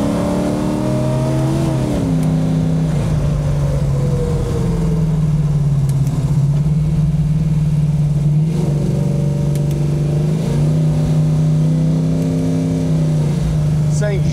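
An LS-swapped car with an 8HP automatic transmission accelerates hard. The engine note rises and drops sharply at each gear shift, a loud, close, continuous roar with repeated rev climbs.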